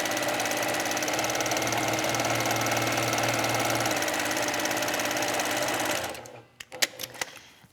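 A sewing machine runs continuously at a fast, even stitching rhythm while piecing quilt half-square triangles, then stops, followed by a few small clicks and taps.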